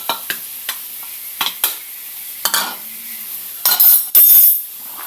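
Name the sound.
sautéing milkfish and pork with potatoes in a pan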